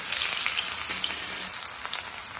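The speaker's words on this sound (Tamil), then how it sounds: "இப்போ நான் தாளித்து" Ginger sizzles in hot ghee as it is tempered, a dense, loud, continuous crackle and hiss with sharp pops, heard close and alone.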